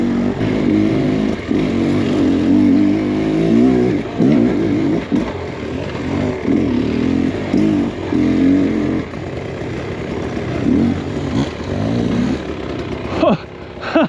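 A motorcycle engine revs and drones loudly and close, its pitch rising and falling with throttle changes and a faint clatter near the end.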